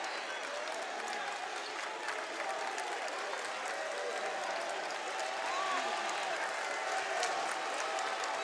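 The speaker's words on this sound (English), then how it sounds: "So that got the crowd going." A crowd cheers and claps at a high school prep basketball game between Prolific Prep and Southeastern Prep in Owensboro, a dense, steady roar of applause and voices that swells slightly toward the end.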